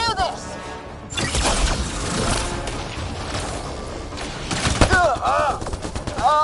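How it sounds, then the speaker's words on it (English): Sustained bursts of automatic gunfire in Mass Effect: Andromeda, loud and close, with rapid shots and booms, and voices shouting during the firefight. "Just keep firing, we can do this!"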